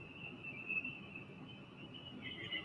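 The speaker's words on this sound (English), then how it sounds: "Like you hear the crickets and all." Crickets chirp outside at night after a day of rain, a thin high continuous trill over faint low background rumble, steady and moderately distant with no voices.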